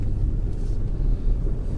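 A 2001 Acura 3.2TL Type S with a B7WA transmission fault code P1768 rumbles from inside the cabin as it drives, a low, steady engine hum with some wind noise and no clear gear change.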